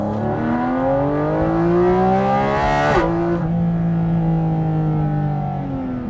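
A Porsche GT4 RS flat-six revving hard from inside the cabin, pitch climbing steadily, a sharp gearshift blip, then rising again, loud and continuous with no talk.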